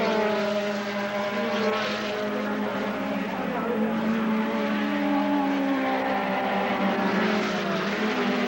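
Classic race cars lap the Wallerfield circuit in Trinidad. A sustained, droning engine roar holds steady with slowly shifting pitch, heard from some distance, and no one speaks.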